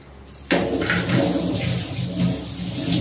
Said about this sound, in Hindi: और ये रहा पनीर, इसको निकाल के पहले धोएंगे